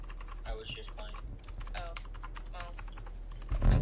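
Rapid clicky typing on a computer keyboard during a gaming livestream, a dense run of close, crisp keystrokes with a faint voice underneath and a thump at the end.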